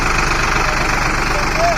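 Farmtrac 60 Powermax tractor with a turbo fitted and increased fuel delivery, its diesel engine running loud and close with a steady throbbing idle.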